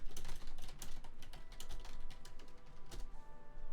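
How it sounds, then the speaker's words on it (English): Fingers type on a computer keyboard in a quick, continuous run of close, clicky keystrokes, with no voices present. "I'm also typing in chat in case you do have ads."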